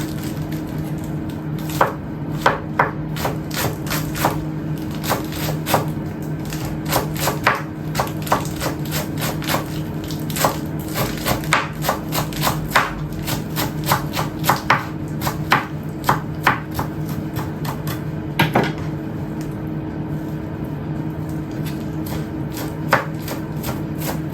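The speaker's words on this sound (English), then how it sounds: "we're going to take our endive leaves and we're gonna chop them as well" Endive leaves chopped with a knife on a board for a green salad with warm bacon dressing, a long run of quick, sharp, close knife taps in uneven bursts with short pauses.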